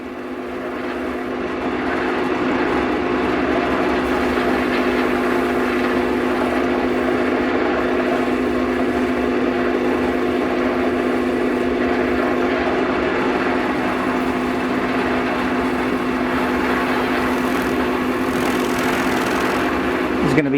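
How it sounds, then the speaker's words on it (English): A wood lathe buffs a live-edge cedar vase to a finish. The motor gives a loud, even drone with a steady tonal whine that starts up and then runs unchanged throughout. "we're going to now buff this to get the finish, the desired finish."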